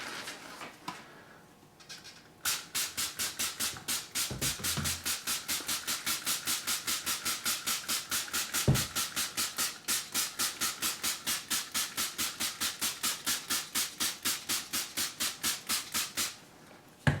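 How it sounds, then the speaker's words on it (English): Disinfectant deodorizer cleaner is sprayed onto a vintage 1961 Mattel Sister Belle doll in a long run of quick, evenly spaced hissing bursts, close and steady, for roughly fourteen seconds. "It's some kind of disinfectant deodorizer cleaner, so I think we'll try that on her."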